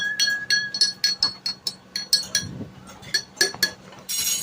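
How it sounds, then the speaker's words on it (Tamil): Spoon stirs nannari sherbet in a glass, producing a rapid, regular series of bright clinks against the glass, close and clear with no talking. "ஒரு ஸ்பூன் எடுத்து கிண்டி எடுத்துக்கணும்"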